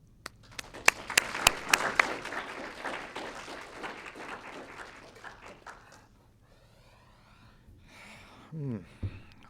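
An auditorium audience applauding to welcome a speaker at a bioethics talk, loud clapping that swells then fades out over several seconds, followed by quiet room noise and shuffling near the end.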